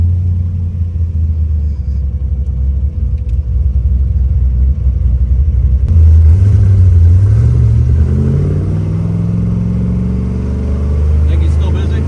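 A 1967 Corvette pro-touring car with an LS3 engine launches hard on the road, its deep rumble climbing in pitch as it accelerates and then settling into a loud, steady drone up close.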